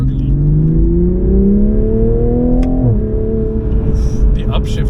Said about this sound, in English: Sport mode also makes the exhaust a bit more gurgly.